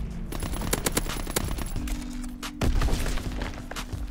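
ERMA EMP submachine gun from Call of Duty WW2 firing in short rapid bursts, loud and close, with a heavier thump and rumble near the end.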